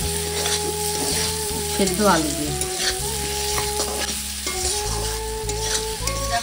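Onions and whole garlic cloves fry in hot oil with a steady loud sizzle, broken by scraping and stirring strokes from a spatula in the pan, with a brief spoken remark partway through.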